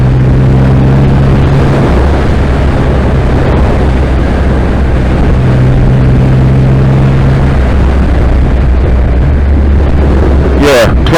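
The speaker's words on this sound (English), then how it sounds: "that upshifter is absolutely seamless" Triumph Rocket 3R motorcycle (2020) accelerating and upshifting through gears with its quickshifter, a loud continuous engine roar with brief pitch drops at each change, mixed with heavy wind noise.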